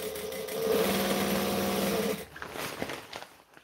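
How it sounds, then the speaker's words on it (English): A sewing machine bastes a seam along the bottom of a custom bag with lining, running steadily and fairly loud for about two seconds before stopping, followed by quieter handling noises. "I'm going to baste it along the bottom, and you want to line up your seams"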